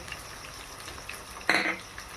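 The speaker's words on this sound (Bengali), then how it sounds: "একটু নেড়ে চেড়ে আলুটা ভেজে নেব" Potatoes with salt and turmeric frying in a pan, a soft low sizzle with one brief louder burst of hissing partway through, heard close and without speech.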